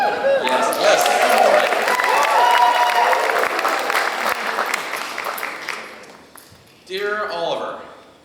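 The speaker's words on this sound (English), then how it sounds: "You have all the permission in the world to cheer and hoot and holler, please." Audience at a high school band spring concert applauding and cheering loudly. The clapping fades toward the end, then a brief burst of cheers and whoops breaks out.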